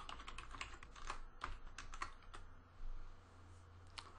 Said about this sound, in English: Now let's type in a C program